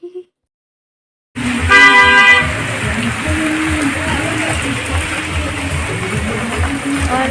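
A car passes along a wet, rainy mountain road in Sikkim near Gangtok, with steady broadband rain-and-tire hiss and a brief horn-like tonal burst early on, close and fairly loud.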